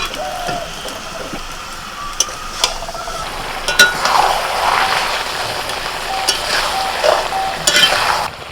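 Fresh jackfruit and meat are stirred and fried together in a pan. A soft frying hiss runs under scattered clicks and scrapes of the spoon, with a few sharper knocks.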